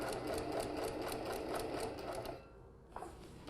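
A sewing machine stitching fabric runs at a quick, steady rhythmic whir close up for over two seconds, then slows and stops, followed by a couple of faint clicks.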